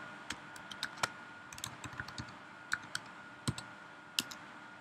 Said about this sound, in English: So let's say we are just typing something.